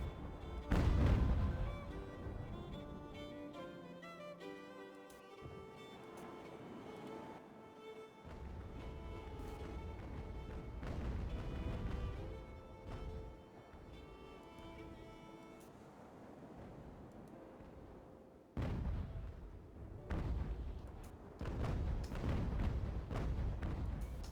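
Cannon fire from sailing warships in the Ultimate Admiral: Age of Sail naval battle game, with repeated low booming blasts over a continuous wash of sea and wind, and occasional lulls between the volleys.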